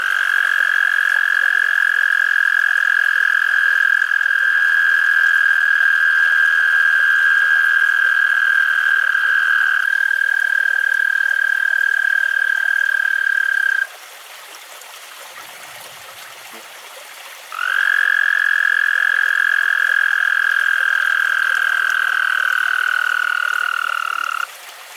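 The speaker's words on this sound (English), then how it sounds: "The American bullfrog was active." At night, an American bullfrog or chorus of frogs calls outdoors, with loud sustained trilling tones that drop out briefly midway and then resume, with nothing else covering them.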